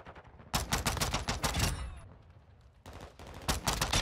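Pistol fire in a modded John Wick mode shooter game, rapid bursts of sharp shots in quick succession, a pause, then another volley, loud and close with no talk.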